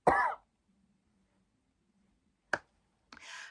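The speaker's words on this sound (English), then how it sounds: "Excuse me, I'm going to cough." A single throat clearing, then after a long pause a short sharp cough followed by a softer breathy cough, close and isolated against silence.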